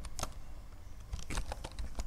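Close-up typing on a computer keyboard, with quick irregular bursts of key clicks against a faint background hum.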